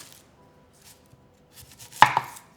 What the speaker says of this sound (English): I'm just going to cut it in half and cut into strips